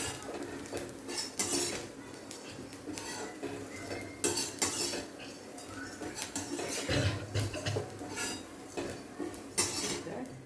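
Chana dal being dry roasted in a pan: repeated scraping and clinking of a spoon stirring against the metal pan, with soft rustling of the dal, close and faint, with no speech.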